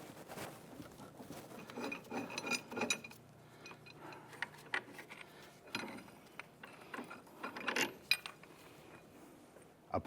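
A ball joint press tool being loosened and taken off a 1999-2004 Jeep Grand Cherokee knuckle: quiet metallic ratcheting, clinks and scraping of steel parts, irregular and close, with brief louder clanks.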